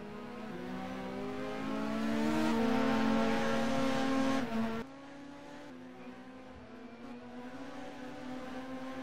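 A Formula R race car, a Gemtech machine, drives the Anderstorp circuit, its engine note rising loud and close, then dropping sharply as it passes, leaving a steadier, quieter drone.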